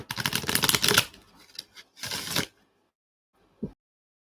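A deck of tarot cards is shuffled by hand, giving dense rapid riffling bursts close by, then a second shorter flurry, a pause, and a brief soft thump near the end.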